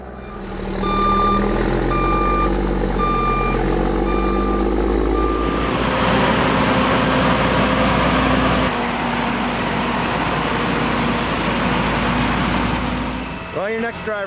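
A dump truck hauling fill dirt backs up with a steady series of loud, evenly spaced backup beeps over its rumbling engine, the beeping stopping partway while the engine keeps running close by.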